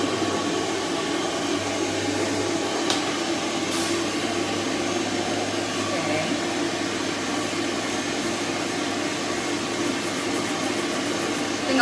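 A wall-mounted dog blow dryer in use while a Coton dog is groomed after a bath, giving a steady loud whooshing roar of rushing air close by, unbroken the whole time with only faint shifts in tone.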